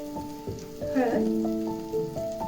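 Turmeric and asafoetida with green chilies sizzle and crackle steadily in hot oil for a simple okra dish, close and continuous, with a stirring spoon tapping the pan and a faint voice underneath.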